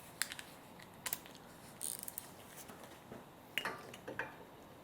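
Metallic ratcheting clicks and short wrench taps come in scattered bursts while a stubborn front brake caliper bolt is worked loose on a 2007 Mercedes C-Class Kompressor W204, fairly faint and close, with no talking.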